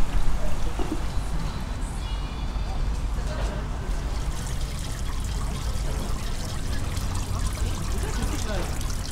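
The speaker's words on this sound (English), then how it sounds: "I saw the water leak." Hot spring water leaks and pours in a steady, loud, rushing splash that continues without pause throughout.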